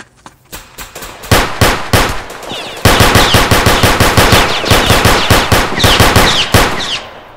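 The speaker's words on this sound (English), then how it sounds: "This gun's supposed to finish him, bro." Gunfire in the Roblox video game fires in loud, sharp rapid bursts, a few single shots at first and then long fast strings of close, clanging reports.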